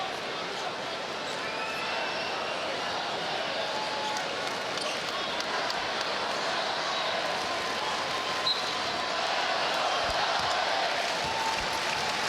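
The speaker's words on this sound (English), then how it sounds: "Crowd getting into it" NBA arena crowd at a Boston Celtics versus Brooklyn Nets game, a broad steady roar of cheering that swells slightly, heard at a distance beneath a commentator's talk, with faint sneaker squeaks.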